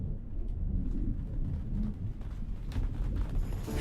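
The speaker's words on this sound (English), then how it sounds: "Then it began to rain." Rain and a deep thunder rumble make up a sound effect in a storytelling piece about a great flood, a continuous low rolling roar under a steady patter, with no narration over it.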